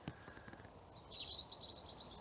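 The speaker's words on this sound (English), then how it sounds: "Oh, it's a bird now." A bird calls at the Roman villa ruins at Great Witcombe in Gloucestershire, a thin high chirping phrase that repeats quickly for about a second, faint and distant over quiet outdoor background.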